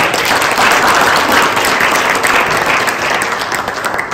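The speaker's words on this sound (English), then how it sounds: "Let's give a round of applause to our graduating reception." A crowd claps steadily and loudly throughout at a 2021 graduation ceremony for a reception class, a dense, even wash of applause with no break.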